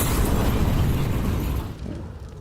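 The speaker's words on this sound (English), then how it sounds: "A little nade for Nico" A grenade explodes in Counter-Strike during a pro league match, a loud, broad roaring blast that fills the first moments, then drops off into a quieter tail.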